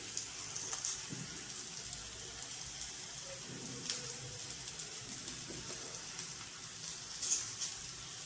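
Eggplant slices frying in a pan over medium-low heat, a faint steady sizzle with occasional soft clinks and a brief louder hiss near the end.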